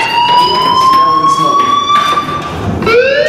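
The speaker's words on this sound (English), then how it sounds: "do you hear that fire alarm?" A fire alarm in the video game Life is Strange sounds as a loud, sustained whining tone that slowly rises, dips briefly and returns, with faint background noise around it.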